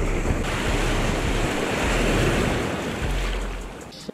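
Ocean surf breaking and washing at a beach in Puerto Vallarta, a steady loud roar of waves with wind buffeting the microphone throughout, no talking.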